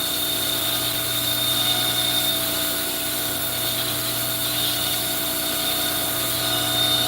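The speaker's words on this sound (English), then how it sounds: "I'm just going to slack grind it on top" A belt grinder hums steadily with a constant high whine while a rasp knife is slack ground on top of the belt, the grinding sound even and continuous throughout.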